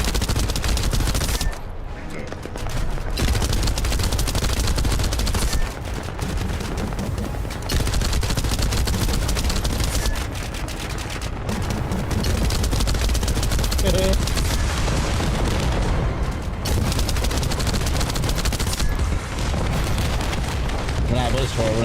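Gunfire in the shooter game The First Descendant: loud, dense bursts of rapid automatic fire and booming impacts that run almost continuously, with only brief lulls.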